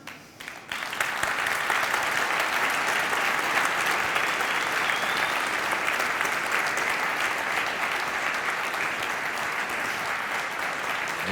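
Sustained audience applause fills a large conference stage hall, loud and steady from start to finish with dense clapping and no break.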